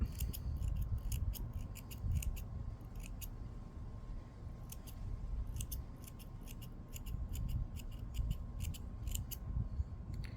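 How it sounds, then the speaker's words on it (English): Scissors snip loose threads on a handmade three-crosses coaster, with bursts of quick, close, crisp cuts over a steady low hum, pausing in the middle before resuming. "Just cut off the little hairs."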